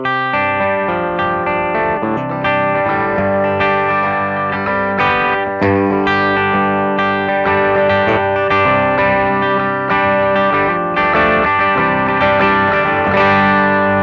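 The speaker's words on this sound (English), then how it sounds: "that's the distortion channel," Electric guitar through the distortion channel of a Friedman BE-100 amplifier, played as a sustained stream of heavily distorted, saturated chords and riffs, loud and close with no talking.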